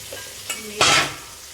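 Ginger, garlic and green chilli hit a pan while making rohu fish kalia, giving a short burst of loud sizzling after a faint click, then fading quickly.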